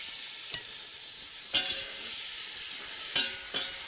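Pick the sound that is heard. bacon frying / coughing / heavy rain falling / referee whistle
bacon frying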